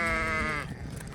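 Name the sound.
sheep bleating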